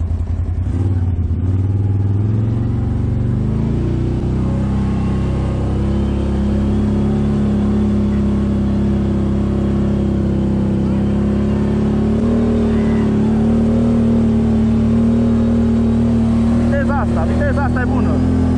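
ATV grinding up a steep, hard hill climb in low gear, its engine droning loud and close at steady high revs with a slowly rising pitch and no clear speech.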